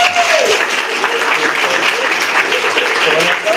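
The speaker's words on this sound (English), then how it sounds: "if I can get a big round of applause for all our candidates" An audience at a Colonial Beach town council candidate forum claps for the candidates, a dense, loud, sustained round of applause filling the room throughout.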